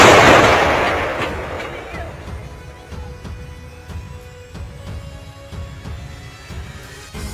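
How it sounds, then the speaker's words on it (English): Artillery fire hits a Russian tank column in eastern Ukraine: a heavy distant boom decays over two seconds, then a steady sequence of sharp cracks and pops rings out at a fairly even rhythm in the distance. "The devastating and accurate artillery fire destroyed a column of Russian tanks moving through the eastern portion of Ukraine."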